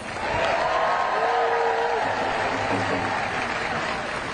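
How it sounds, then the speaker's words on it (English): A large outdoor crowd at an anti-Trump protest rally in Washington, DC applauds in a loud, continuous roar of clapping, with cheering and voices blended into the wash. "Give yourselves a round of applause."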